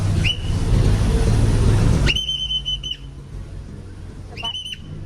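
A sharp whistle blown on a boat on a fast river in Bangkok sounds three times, one short blast early and then two longer blasts, piercing over a steady roar of engine and water.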